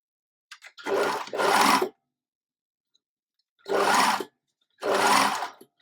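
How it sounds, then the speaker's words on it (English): A sewing machine stitching culotte fabric, running in short separate bursts: a quick double run, a pause, then two more even runs, loud and close with no talking. "I'm going to sew the other one in exactly the same way"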